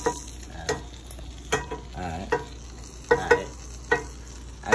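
Fish frying in butter in a black pan for homemade escovitch fish, a soft continuous sizzle broken by sharp scraping and stirring clatters of a utensil against the pan, close up with no talking.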